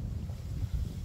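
Heavy wind buffets the microphone in a continuous low roar that rises and falls in gusts, with no other sounds coming through.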